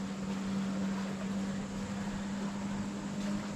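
2017 Nautique G23 wakeboat with its H6 engine running, a steady low mechanical hum with a constant drone, close and even, with no talk.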